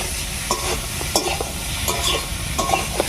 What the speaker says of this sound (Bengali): আলু আর কচুকে একটু ভাজা ভাজা মতো করে নেব